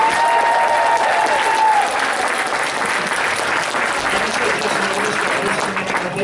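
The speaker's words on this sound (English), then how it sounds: "let's give a round of applause and welcome the Warm and Fuzzies" A large convention crowd applauds at an opening ceremony, loud sustained clapping filling the room for several seconds, with faint voices and whoops mixed in and a brief tone near the start.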